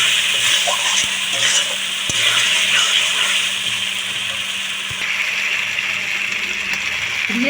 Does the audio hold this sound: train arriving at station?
no